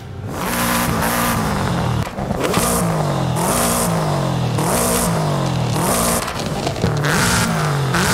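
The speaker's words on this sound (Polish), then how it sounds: "Coś tam się zmienia ten dźwięk tutaj. Wydech." A Subaru S209 engine in Forza Horizon 5 revs hard again and again in rhythmic bursts, the exhaust note rising and dropping through gear changes, loud and close.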